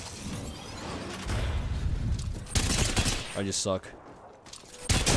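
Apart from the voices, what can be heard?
gun firing with recoil in video game Apex Legends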